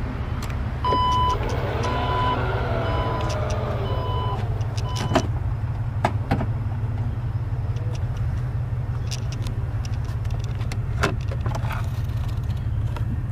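A 2014 Porsche Cayenne GTS power tailgate closes: a few tonal warning beeps come first, then scattered clicks and a latching thud, all over a steady low engine-idle hum.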